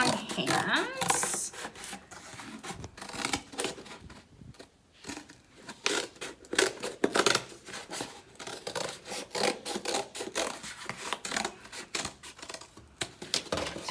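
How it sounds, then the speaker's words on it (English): Scissors cut through stiff cardboard for a kids' craft vase, a long run of close, rasping snips and scraping strokes in an uneven rhythm with brief pauses. "Now we're going to take scissors to cut it out."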